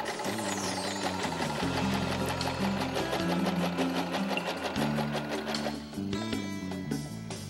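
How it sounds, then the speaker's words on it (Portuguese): A sewing machine stitches a paper Mother's Day card with a wavy stitch around butterfly shapes, its steady, loud, rapid needle clatter running continuously with a brief shift in tone near the end. "Aí eu posso passar uma costura e depois eu passo uma segunda costura"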